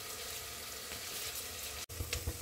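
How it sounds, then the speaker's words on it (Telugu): Tomato pieces frying in a pan for egg biryani, a continuous soft sizzle with a brief stir-like clatter near the end, fairly quiet and with no talking. "ఇంకా ఫైనలీ టమాటా పీసెస్ కూడా వేసేసానమాట, ఇది చక్కగా ఫ్రై అవ్వాలి"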